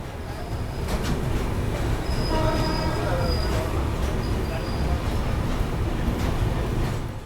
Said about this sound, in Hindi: फाइनली बिल्कुल ऑन टाइम अपनी ट्रेन सुबह के 9:25 पे डिपार्ट करी अपनी वाराणसी सिटी रेलवे स्टेशन से ऑन टाइम।